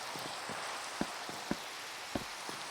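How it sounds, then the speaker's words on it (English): Rain in the Minecraft modpack All The Mods 9 falls as a steady, hissing wash with soft scattered drop ticks, a constant moderate background without talk. "I hate the rain. Let me actually turn that out. Or turn that off in the sound effects."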